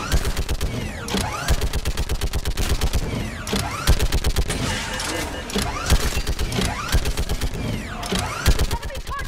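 Dense sustained gunfire in Mass Effect 3, rapid repeated shots throughout a loud battle, with shouted voices over the shooting.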